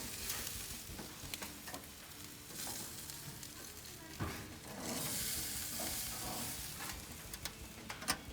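Kobe beef steaks sizzle on a grill, a steady close hiss with scattered pops and brief surges of louder spitting fat, with no voices.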